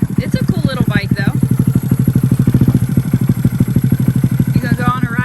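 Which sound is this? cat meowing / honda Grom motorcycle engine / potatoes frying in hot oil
honda Grom motorcycle engine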